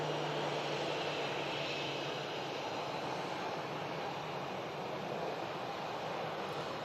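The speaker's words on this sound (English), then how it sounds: "We have a KLM on the taxi out." A KLM jet airliner taxis out at Manchester Airport, its engines a steady, broad roar holding evenly throughout, with no one talking.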